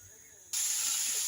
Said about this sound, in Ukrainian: І ось у мене смажиться сало, таке досить м'ясне.